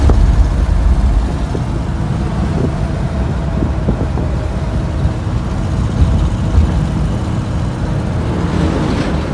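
A 1963 Ford Galaxie 500 XL convertible cruises down a road with a steady, loud low rumble of engine and road noise, buffeted by open-top wind noise throughout, no talking.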